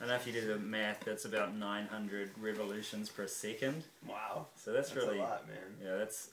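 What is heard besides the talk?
No everyday noise stands out behind the speech.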